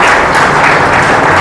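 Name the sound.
audience applauding loudly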